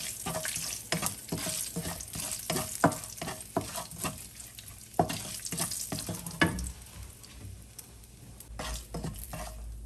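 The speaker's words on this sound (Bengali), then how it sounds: "জিরে দিয়েছি 1 চামচ, একটু করে ভেজে নেব" Cumin seeds and whole dried chillies fry in hot oil in a pan for a chicken curry, sizzling softly under repeated sharp clinks and scrapes of a spoon stirring.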